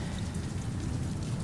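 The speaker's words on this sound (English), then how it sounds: "And, of course, it's rainy. It's constantly rainy." Constant rain pours on an alien planet in No Man's Sky as a steady, even rush of falling water with soft patter and no talk.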